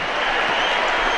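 Crowd applause fills a basketball arena during a Panathinaikos home game against Panellinios, a loud, steady wash of clapping lasting about a second.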